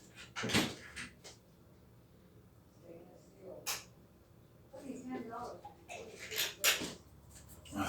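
A drawer slides and bumps shut with sharp wooden knocks and rattles, a few separate thuds between quiet stretches and soft talking.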